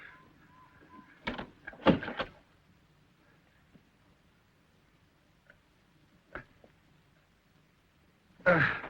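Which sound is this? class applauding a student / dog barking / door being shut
door being shut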